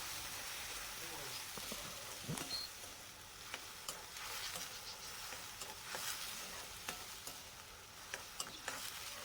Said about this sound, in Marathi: आता हे दोन्ही चांगलं मिक्स होऊ द्यायचं आणि थोडंसं हे फ्राय होऊ द्यायचं तेलामध्ये